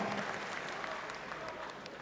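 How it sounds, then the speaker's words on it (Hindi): Audience at a mushaira poetry gathering applauds a poet taking the stage, a steady wash of clapping, fairly faint and distant, lasting the whole short stretch. "जोरदार तालियां बजाकर इस्तकबाल करें"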